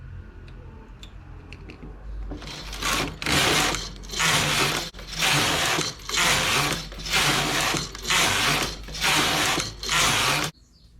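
A knitting machine knits rows, its carriage swept back and forth in about seven loud, evenly spaced mechanical clattering passes, each a second or so long with brief gaps between, close up and alone.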